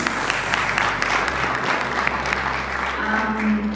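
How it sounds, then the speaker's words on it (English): Warm, sustained applause from delegates at a supply chain summit session in Botswana, a steady wash of many clapping hands filling the room, with a low background hum underneath. "another last round of applause"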